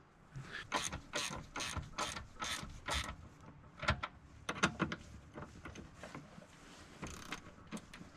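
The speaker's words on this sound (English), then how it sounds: "I'm gonna finish tightening this down. There's about 12 more bolts to go." Bolts are tightened on an ATV plow mount with a ratchet, heard as a run of rhythmic clicking bursts, fairly faint and close, with short gaps between strokes.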